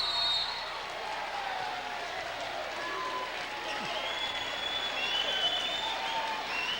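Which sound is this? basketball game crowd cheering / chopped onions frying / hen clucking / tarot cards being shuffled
basketball game crowd cheering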